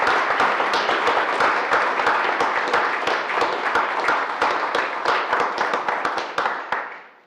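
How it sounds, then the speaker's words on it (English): Applause at a work session celebrating Kent's retirement, a steady burst of clapping hands from a room of people that holds for several seconds, then thins and fades out at the end. "give him a round of applause"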